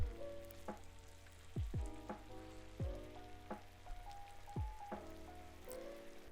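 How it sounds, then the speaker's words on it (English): A thickening cornstarch sauce is stirred in a pan, with soft bubbling and a quiet sizzle broken by several scraping strokes of a utensil, all faint and close. "And start giving it a good stir."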